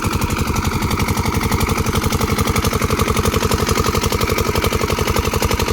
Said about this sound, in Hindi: हमारा डीजल इंजन बहुत ही तगड़े से पानी भी दे रहा है इस वक्त